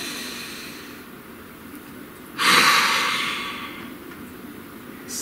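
A single deep breath is drawn in and slowly let out close to the microphone, a breathy rush lasting about a second over quiet room background.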